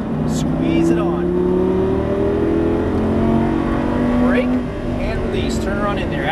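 A Lamborghini Superleggera on a Las Vegas track at full throttle, its engine droning loud and close with rising pitch through gears, while an instructor talks over the noise.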